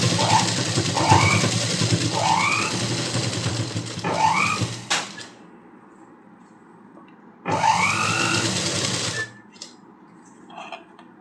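A sewing machine runs in two bursts while stitching the hook loop on a blouse hook strip: a long steady whirring run, a pause of near silence, then a second shorter run before it stops again.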